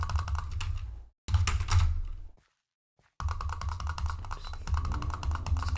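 Close computer keyboard typing and clicking in rapid bursts, with two short pauses of silence between runs of clattering keystrokes, no talk.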